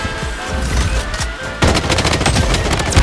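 Sustained automatic gunfire from an M4A1 rifle in the shooter game Blood Strike, loud and continuous bursts that grow denser and sharper halfway through, with no talk.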